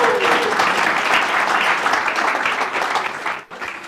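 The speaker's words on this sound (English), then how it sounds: "let's give a huge round of applause to Charlie" A conference audience at an emergency care event gives a loud, sustained round of applause that fills the room, thinning slightly near the end.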